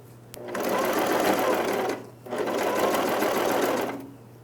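A sewing machine runs in two steady bursts of stitching along a jeans hem, pausing briefly in between, close and loud, with a low steady hum beneath.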